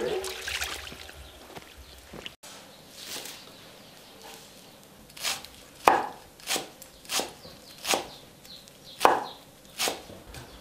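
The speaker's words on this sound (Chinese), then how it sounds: "把这个野葱切碎，用来炒那个鸭蛋吃。" A knife chops wild green onions on a board outdoors in the countryside, a run of crisp, evenly spaced thuds that grows steadier and louder toward the end, heard alone without talk.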